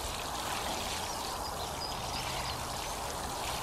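Water pours from a watering can onto freshly planted brassicas and cucumbers in a polytunnel, a steady close splashing rush with no pauses.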